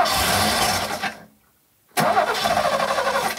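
A Ford P7A estate with a six-cylinder engine runs loudly, cuts out into a second of silence, then fires straight back up with a burst and settles into a rough, pulsing idle, with no voices.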